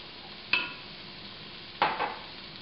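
Peppers and onions go into a pan of melted butter, giving two short, sharp bursts of sizzling close by, with quiet in between.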